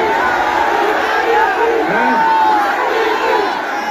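A large crowd at a public rally shouts and roars together, a dense sustained wall of voices with a few louder cries rising out of it.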